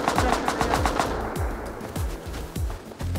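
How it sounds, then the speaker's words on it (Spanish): Automatic gunfire in the survival video game Rust, a fast rhythmic volley of loud close shots with ringing, bass-heavy reports repeating through the whole clip. "me han disparado, me han matado"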